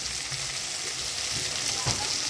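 Chili powder and spices sizzling in oil in a pan for a vegetarian dhoka curry, a soft steady frying hiss with a few faint stirring scrapes and no voices.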